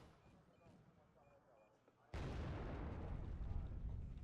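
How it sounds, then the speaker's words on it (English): Artillery fire in the video game Wargame: Red Dragon, a sudden loud booming barrage that kicks in halfway and rumbles on steadily after a quieter stretch of faint game sounds. "they're attacking me with artillery, which is bad."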